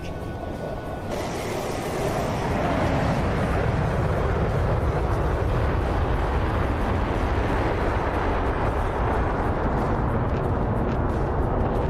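An F-15E Strike Eagle's cannon on a strafing pass in a flight simulator game, a loud, continuous broadband roar that starts after about a second and holds steady to the end.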